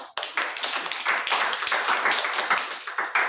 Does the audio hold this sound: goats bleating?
no